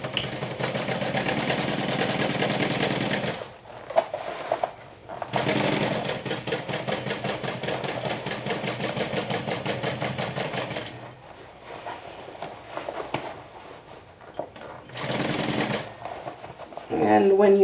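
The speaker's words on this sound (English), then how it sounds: "we're going to stitch this down with an 5/8 of an inch seam allowance" A sewing machine runs in several close bursts, stitching lining to lining at a 5/8 inch seam allowance, its rapid needle chatter and motor hum stopping and starting between runs.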